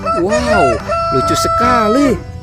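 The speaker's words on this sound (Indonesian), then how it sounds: "Ini ada ayam berkokok." A toy rooster crows loudly twice in a cheerful electronic cock-a-doodle-doo, with a short pause between calls and a person speaking briefly.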